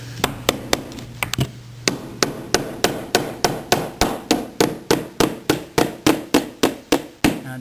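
A hammer drives a nail into a hardwood floor board with a steady run of sharp, loud blows, a few quick taps first and then about twenty evenly spaced strikes, up close with no talking.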